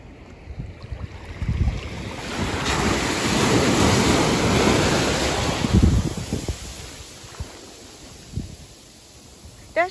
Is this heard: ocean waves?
yes